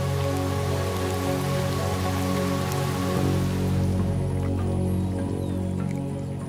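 Rain falling across the Serengeti, a steady dense patter on the ground under sustained tonal music, continuous and fairly loud without any voices.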